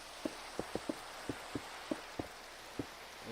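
Rain falling in the Minecraft video game, a steady soft hiss of drizzle with a scattering of distinct drop ticks landing in an irregular rhythm, quiet and without talk.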